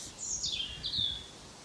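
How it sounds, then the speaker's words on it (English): Outdoor birds sing a couple of short, high, sweeping chirps, faint and somewhat distant, with no talking. "as we hear the birds sing"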